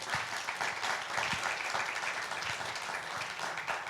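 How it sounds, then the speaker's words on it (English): Audience at a humanitarian forum on protecting children applauding the panelists, continuous dense clapping from a large room, steady and fairly loud throughout. "I would like a round of applause for our esteemed panelists"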